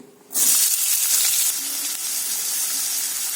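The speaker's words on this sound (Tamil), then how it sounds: "எண்ணெய் நல்லா சூடானதும் இதுல நான் 2 மீடியம் சைஸ் பெரிய வெங்காயம் எடுத்து பொடியை கட் பண்ணி வச்சிருக்கேன். இதை சேர்த்துக்கலாம்." Two medium-sized chopped onions drop into hot oil and burst into a loud, steady sizzle that holds close and constant for several seconds after a brief quiet start, for an egg masala fry.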